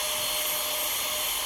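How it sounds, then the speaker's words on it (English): A handheld vacuum cleaner drones steadily and loudly at close range, running continuously with a high, airy whine while it is used to clean off sawdust and spider webs during picture-frame preparation in an art studio. "Didn't know when we got this handheld vacuum how useful it would be"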